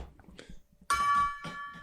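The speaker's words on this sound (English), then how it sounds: "ladies and gentlemen, we have a gong" A makeshift gong rigged with screws is struck once with a stick, a bright metallic clang that rings on with sustained shimmering overtones, preceded by quiet talk and background rustle.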